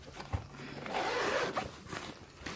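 A small zipper on the side pocket of a travel bag is pulled open in one continuous rasping run, close and fairly quiet, with no talking.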